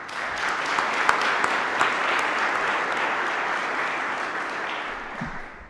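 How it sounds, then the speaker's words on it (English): Graduates and guests at a Faculty of Medicine graduation ceremony applaud in a large hall, a broad, even wash of clapping from many people that stays steady, with a few sharper claps standing out. "so it's applause for all of you"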